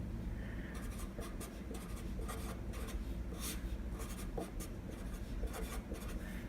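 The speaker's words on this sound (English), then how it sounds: "so I'm just going to write minus right there" A pen writes math working for an exam review, giving faint, close scratchy strokes in short bursts over a quiet room hum.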